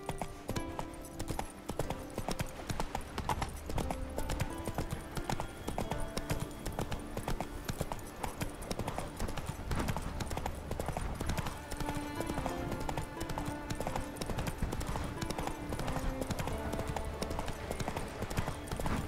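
Roach the horse galloping in The Witcher 3, with fast, repeated hoof clip-clops running throughout over a steady bed of game music and ambience, and a brief bit of talk.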